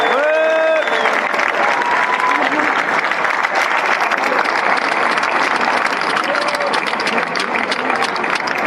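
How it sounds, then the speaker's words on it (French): A large crowd applauds the former Olympique de Marseille players named for a statue project honoring Bernard Tapie. Loud, dense clapping runs throughout with some cheering, and a voice briefly speaks over the start. "je voudrais qu'on les applaudisse tous les uns pour les autres."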